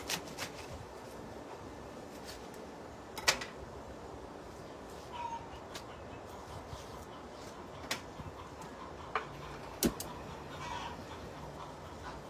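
A chicken clucking outdoors, with a few sparse, faint clucks and short calls popping up over quiet background noise at irregular intervals.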